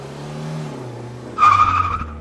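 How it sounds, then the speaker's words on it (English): A getaway car speeds off with its tires skidding on a car park surface, a short loud screech bursting in after a low engine rumble, up close and with no talk over it. "quickly grabbed her and put her into a car and sped away"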